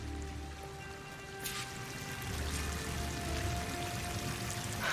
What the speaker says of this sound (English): That waterfall must be coming from somewhere.